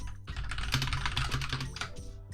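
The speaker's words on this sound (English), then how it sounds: "I know that you can hear me typing," Loud typing on a computer keyboard during a city-building game session, rapid clattering keystrokes in quick succession, very close, with no speech.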